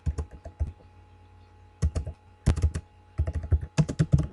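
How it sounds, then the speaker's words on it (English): Typing on a computer keyboard while entering text in Word: bursts of quick, close key clicks separated by short pauses, clear and alone. "Hit enter 2 times, and we're going to type in Dear"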